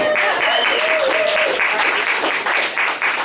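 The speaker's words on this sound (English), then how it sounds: "I really would like you to all give one more big round of applause." Audience applause at a poetry reading, a full, close round of clapping with cheers and voices mixed in, holding steady before dipping near the end.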